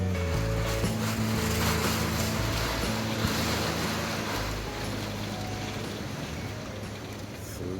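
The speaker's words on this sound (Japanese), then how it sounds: "すごい風やでこれ。" Strong typhoon wind roars steadily against a house with loud, constant low rumbling and gusting buffeting at the microphone, while wind-driven rain lashes sideways through gaps in the storm shutters; no voices.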